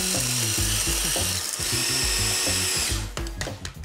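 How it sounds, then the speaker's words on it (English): An electric wet grinder churning Goan curry paste, a loud steady whirring motor with repeated low grinding pulses, close and alone, easing off near the end. "Let's grind."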